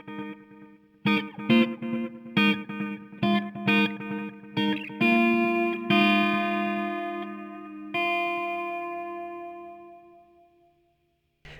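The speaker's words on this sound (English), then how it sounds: "What this does is take different taps as a delay and spreads them across a stereo field." A Line 6 Echo Park stereo delay pedal processing a guitar: a series of plucked chords and notes followed by a long ringing chord, with repeating delay taps spreading and decaying smoothly into silence, no voices.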